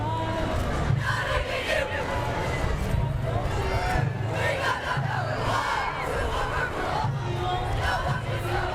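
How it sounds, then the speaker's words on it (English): Holy Cross cheerleaders, a large team, shouting a rhythmic group chant outdoors at a Santa parade, loud unison voices in repeating bursts over general crowd noise. "And here they are, Holy Cross, doing a little cheer this morning"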